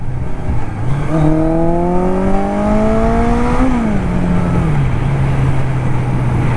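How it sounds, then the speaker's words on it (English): A 1981 Suzuki GS850 cafe racer motorcycle engine runs loud and close, idling, then revving up in one smooth rising sweep before settling back to a steady idle. "Love the way this engine sounds."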